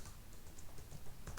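Fast, close clicking of keys on a computer keyboard while typing PHP code, a light patter of irregular taps with no talk.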